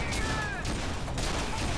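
Steady automatic gunfire from a big gun in the shooter game F.E.A.R. 2, a dense roar of shots with a couple of sharper bursts and whining effects, no talking.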